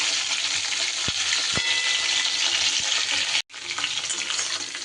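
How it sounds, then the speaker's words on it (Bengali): Pieces of pointed gourd fry in hot oil with a steady, dense sizzle, broken by a couple of light utensil clicks and a brief drop to silence near the end. "পটলগুলো বেশ কিছুটা সময় ধরে সুন্দর করে ভেজে নিতে হবে।"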